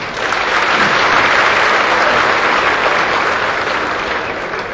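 Loud audience applause at a televised Hindi comedy poetry gathering, a thick, continuous wash of many hands clapping close and strong for several seconds without a break.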